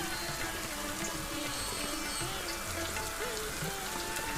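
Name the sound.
rain falling in a cold forest, story sound effect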